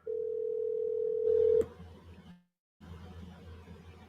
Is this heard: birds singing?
no